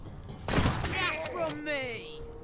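Gunfire in the Mutant Year Zero: Road to Eden video game: a close burst of shots lands at once, followed by ringing, descending electronic tones and whirs as the fight plays out, with no talk over it.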